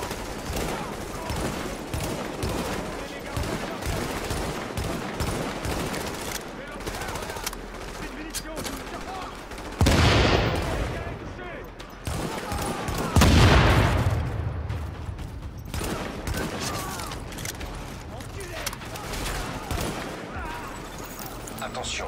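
Sustained enemy gunfire in The Division game during a supply drop under fire: steady rattling automatic bursts throughout, with two louder heavy blasts partway through, and voices beneath.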